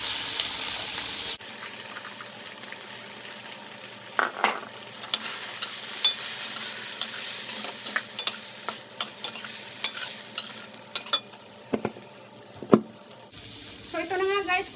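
Sweet turnips are stir-fried in a pan, with a continuous sizzle and repeated scraping stirs from a utensil against the pan. Splashy, watery sounds run throughout, and some background noise comes in at the end.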